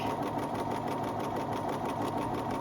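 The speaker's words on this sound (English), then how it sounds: "you're going to sew all the way down, keeping the edge of your foot to the edge of the fabric" A sewing machine stitches fabric for a scrunchie with a steady, fast, continuous mechanical whir at even loudness, close up and with no voices.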